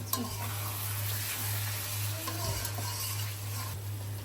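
Thick chunks of pangas fish curry are stirred and fried in a pan, with a continuous close sizzle and repeated scraping and stirring strokes over a steady low hum.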